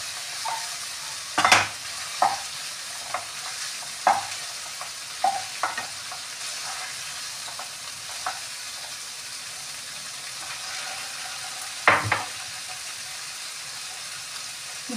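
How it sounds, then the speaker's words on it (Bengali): Onions and capsicum frying in oil in a pan for a Kolkata-style egg chicken roll, with a steady low sizzle and several sharp scraping stirs of a utensil, no talking. "তুলে নিয়ে এই তেলটার মধ্যে পেঁয়াজ আর ক্যাপসিকামগুলো একটু ভেজে নিচ্ছি।"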